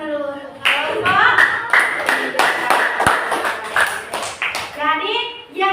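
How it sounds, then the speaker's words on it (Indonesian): A classroom of students claps for a student group, a few close sharp handclaps growing into brief scattered applause, with a voice heard at the start and end. "Beri tepuk tangan dulu untuk kelompok."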